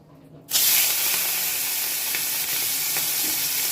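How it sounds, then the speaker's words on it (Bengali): Prawns hit hot oil with a sudden burst, then a loud, even sizzle and hiss continues close by, with a few faint clinks. "আমি চিংড়ি মাছটাকে ভেজে নেব"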